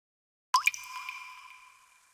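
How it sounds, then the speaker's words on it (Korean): A single water droplet lands on soil cultured with bacteria, a sharp close plop with a brief ringing tail that fades over about a second and a half in otherwise silent surroundings. "세균을 배양한 흙에 비가 오는 것처럼 물방울을 떨어뜨려 관찰한 영상이다."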